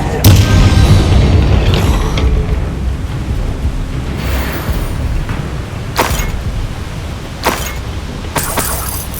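A Bombarda spell blast in Hogwarts Legacy, a loud booming burst at the start that fades into a rumbling tail, followed by a few sharp cracks later on.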